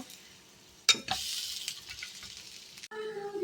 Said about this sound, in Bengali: মাল্টিগ্রেন তো ভেতরটা একটু ভালো করে ভাজতে হচ্ছে